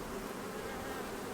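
Honeybees buzz densely on a brood frame lifted from a hive, a continuous close swarm hum with no pauses.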